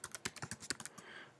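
Quick, close keystrokes on a computer keyboard, about a dozen crisp clicks in an irregular rhythm lasting just over a second, with a faint hiss of room noise trailing after.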